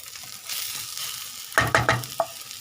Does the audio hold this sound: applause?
no